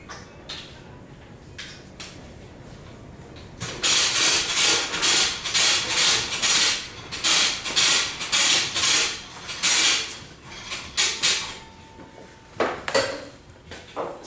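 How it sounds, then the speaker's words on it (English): A hand ratchet works bolts out of a Suzuki Hayabusa transmission, giving bursts of rapid clicking and rasping strokes after a quiet start, close and fairly loud, with pauses between runs. "I'm going to take those bolts out."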